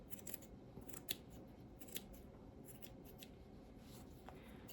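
Scissors trim rag doll hair with a few faint, scattered snips and light rubbing against a quiet, steady background hiss.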